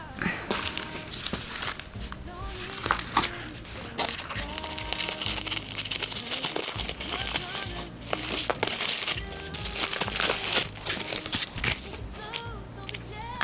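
Crinkling and rustling of packaging as a Moterm Luxe black croc pocket A7 planner, ordered from AliExpress, is unboxed, with dense handling noise, tearing and scissor-like snips running throughout, fairly close and steady.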